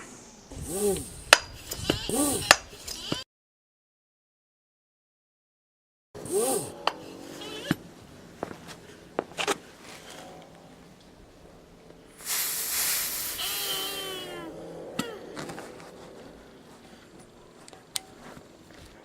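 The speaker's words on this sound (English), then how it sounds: "I did manage to fill it okay with the pump" Hand pump charges a Hatsan AT44 PCP air rifle with air, giving bursts of hissing and rhythmic pumping strokes separated by a silent pause, louder hissing near the end, with a few sharp clicks.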